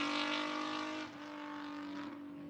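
Touring race car engine at Spa, a loud sustained tone with a strong steady pitch, a slight drop in revs around the middle and continuous close running.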